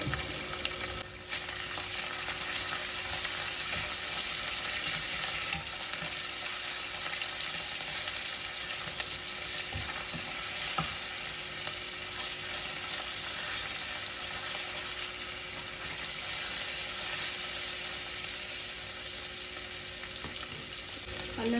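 Ginger garlic paste fries with browned onions in a pan for carrot rice, giving off a steady, dense hiss of sizzling oil that holds at an even level, with only a few faint clinks and no talking.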